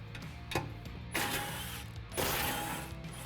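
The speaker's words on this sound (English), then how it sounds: "Before you take out the last two, hold it in place with one hand and then just take the bolts out." Intercooler bolts being removed on a Ford F-150 Raptor, heard as short metallic ratchet clicks and bursts of wrench turning in a garage, with a few louder mechanical spells between quieter pauses.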